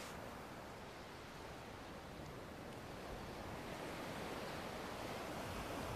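Ocean surf washing steadily onto a beach in the video game Kingdom Hearts, a continuous broadband roar of breaking waves with no voices, even and unbroken throughout.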